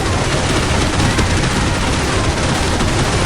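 Machine gun fire in Counter-Strike Online, a new tier-one machine gun, unloading in a dense, unbroken roar of rapid shots, very loud and close, with battle noise mixing in and no pauses.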